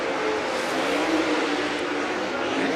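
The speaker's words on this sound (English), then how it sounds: "drivers getting these race cars tuned up, tuned in, getting ready for Sunoco Race Fuels Qualifying" Race cars running hot laps on a dirt speedway during a Castrol FloRacing event at Florence, a steady loud engine roar with revving that fills the whole clip.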